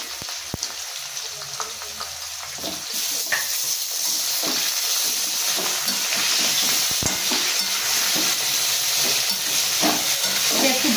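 Half-fried potatoes with chopped eggplant crackle loudly in a pan, a dense sizzling hiss that swells after the vegetables go in, with scattered stirring scrapes and knocks.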